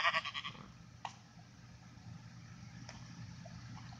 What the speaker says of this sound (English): Spawn sheep.